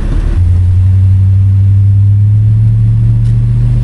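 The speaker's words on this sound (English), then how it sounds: "Folks are driving to work." A car passing on an icy, snowy road during a blizzard, a loud steady engine rumble and tire drone close by, with no talk.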